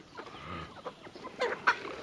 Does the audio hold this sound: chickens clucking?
yes